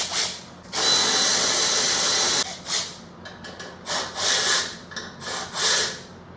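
A power tool zips off the caliper hangers on an Indian Chieftain motorcycle fork, starting with one sustained high whine, then several short on-off bursts, close and loud.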